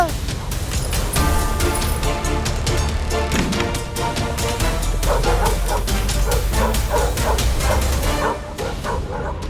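Several dogs bark, yip and whimper in a dense, continuous cartoon soundtrack, loud throughout with music and voices mixed in.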